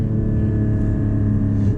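Porsche 718 Cayman GT4 with a manual gearbox and mid-mounted engine pulls hard in second gear, its engine drone steady and loud with a strong low harmonic hum and no talking.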